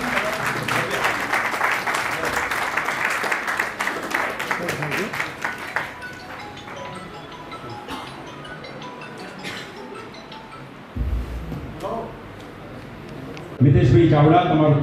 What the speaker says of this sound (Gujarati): જોરદાર તાળીઓના ગડગડાટ સાથે સ્વાગત અને સન્માન કરવા આપણા વિનંતી.